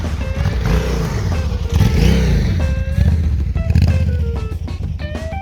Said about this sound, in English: As soon as I hit the sand, the traction control kicked in and decided to bog the bike down